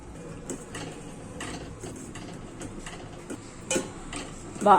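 A spoon stirs jaggery and cardamom into banana and coconut payasam in a pot, giving soft irregular scrapes and light metallic clinks against the rim, fairly faint, with a louder clack near the end.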